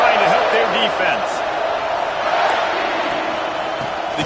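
A big stadium crowd at a football game roars steadily to help the home defense, a loud, dense wall of noise with an announcer talking over it.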